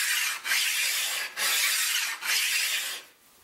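A sharpening stone is rubbed over the table of a 1940s Delta jointer to flatten it: three long, even rasping strokes with brief pauses between them, close and loud, with no talk.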